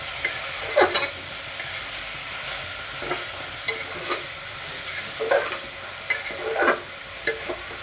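Chopped tomatoes stirred into a sizzling mushroom pulao masala in a pan, a soft frying hiss beneath irregular scrapes and knocks of the spoon against the pan, close by with no voices.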